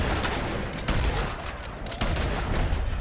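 Gunfire in the Red Dead Online western game cracks out as a quick series of sharp, loud shots with a rumbling, echoing tail between them.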